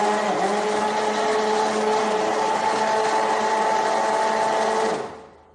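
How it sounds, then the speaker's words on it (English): An electric blender whirs steadily through homemade lotion in one short, loud, continuous burst of about five seconds, then cuts off and winds down quickly. "I'll just be blending it on a very short burst."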